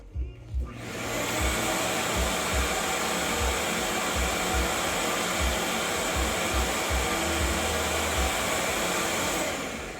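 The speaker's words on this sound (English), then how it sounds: "Let's fire up the vacuum first, see what kind of wattage that takes." A vacuum cleaner whirs loudly and steadily after a brief startup, its motor drone holding constant for several seconds before easing off at the end.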